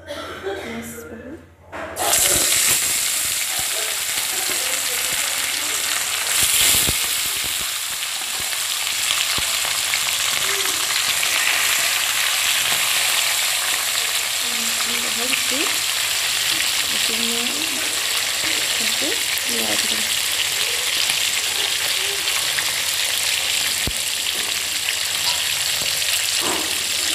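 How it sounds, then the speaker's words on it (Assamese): Fish pieces fry in a pan for a fish curry with cauliflower, producing a continuous loud sizzle and hiss through the whole stretch, with a voice talking at times over it. "ভজা হৈছেহি লাহে লাহে। এয়া ভাজি আছো আৰু"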